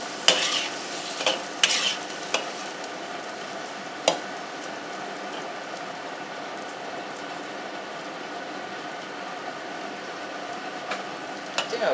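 Garlic fries in butter and oil with a constant close sizzle, broken by a few sharp utensil clinks and stirring scrapes early on, then a steady crackle alone.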